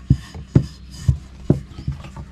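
Rolling pin working fenugreek paratha dough on a wooden board, giving soft rhythmic rubbing thumps about every half second, close and fairly quiet.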